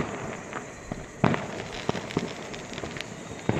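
Firecrackers bursting during a festival in Garur, a small town in Uttarakhand, with a steady crackling haze and several sharp, loud bangs at irregular intervals, some near and some farther off.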